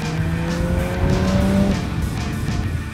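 A 1952 Jaguar XK120 sports car driving, its engine note rising steadily then settling under a broad rush of road and wind noise, loud and close.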